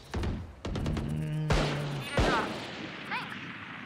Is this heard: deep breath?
no